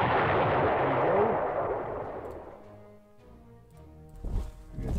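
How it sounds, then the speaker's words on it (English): Artillery in the wartime strategy game Panzer Corps fires one loud, booming blast that rumbles away, followed by a quieter muffled pop a few seconds later. "let's shoot some more with the artillery."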